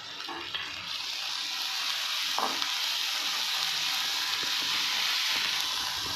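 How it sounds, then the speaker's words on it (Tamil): Green chili, onion and ginger sauté in a pan with a steady, continuous sizzle that stays close and even throughout, broken only by a couple of faint clicks of stirring. "லைட்டாக வதக்கிக்கணும், ரொம்ப வதக்கிட்டு போட்டுக்கலாம்."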